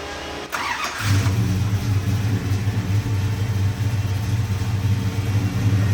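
A classic car engine cranks briefly with a starter whir, then catches and settles into a steady, loud, low rumbling idle nearby.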